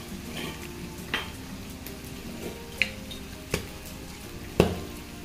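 Boti meat fries in a pan with a continuous soft sizzle, broken by several sharp clinks and scrapes from stirring.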